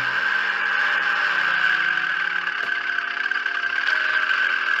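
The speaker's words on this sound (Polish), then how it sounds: "Rozgrzewam silnik przed startem." A small aircraft engine idles while warming up before takeoff, a loud, even whirring drone with slight shifts in pitch, running alone without voices.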